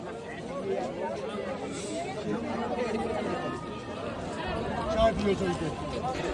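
A large crowd of pilgrims chatters steadily at Kedarnath temple, a dense, continuous babble of many voices at middle distance with no single speaker standing out.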